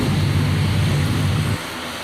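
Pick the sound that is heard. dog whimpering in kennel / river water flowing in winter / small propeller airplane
small propeller airplane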